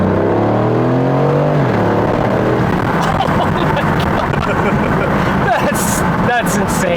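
A 2023 Aston Martin Vantage F1 Edition's engine drops through falling harmonic gear steps in the first seconds, then settles into a loud broadband roar with sharp blips, heard from inside the car.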